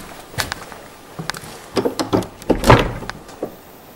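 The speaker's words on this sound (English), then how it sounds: "You tried that door, it didn't open." A series of clunks and rattles as a door handle at Craig-y-Nos Castle in Wales is tried and the door shaken, several knocks of varying strength close by.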